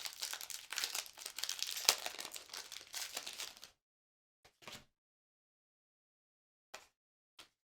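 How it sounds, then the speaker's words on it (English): A Pokémon Fusion Strike booster pack wrapper crinkled and torn open up close, with about four seconds of continuous foil rustling, then silence broken by a few brief crinkles. "We're opening up our first Fusion Strike pack."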